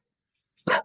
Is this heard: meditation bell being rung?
no